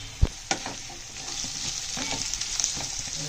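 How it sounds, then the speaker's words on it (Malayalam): Garlic and onion fry in a pan with a soft constant sizzle, broken by a few scraping strokes and light knocks of a spoon stirring, close but fairly quiet, no talking. "വെളുത്തുള്ളി നന്നായിട്ട് ഇളക്കുക."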